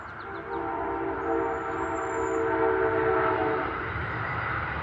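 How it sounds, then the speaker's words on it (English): A train rumbles steadily nearby, a constant low roar with a faint high whistle tone, no voices. "There's that train."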